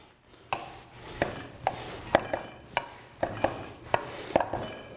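A knife chops fresh dumpling-style noodle dough into big strips on a board, with about nine sharp, evenly spaced cuts falling in a steady rhythm, close and fairly loud, with no talking.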